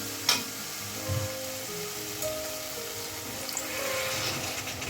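A small splash of water goes into a pan of fried spice paste for potoler dorma, and a steady hiss of sizzling follows, close and moderately loud with light clinks from the pan.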